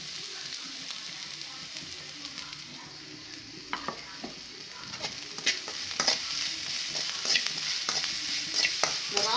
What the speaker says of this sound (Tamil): வெங்காயத்தை போட்டு ஒரு வதக்க வதக்கியிருக்கேன்